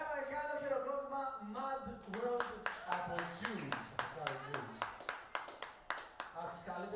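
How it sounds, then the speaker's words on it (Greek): Scattered audience clapping at a karaoke night, a handful of sharp claps that grow steadier and then trail off, heard under someone speaking. "Ένα μεγάλο χειροκρότημα"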